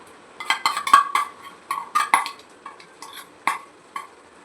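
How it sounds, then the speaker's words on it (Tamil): Spoon strikes and scrapes a pan of dried fish thokku as mixed masala goes in, a run of close, irregular metallic clinks and stirring knocks that thin out toward the end. "இப்போ வந்து இந்த கலக்கி வச்சிருக்கிற மசாலாவை இதில் போடுவோம்"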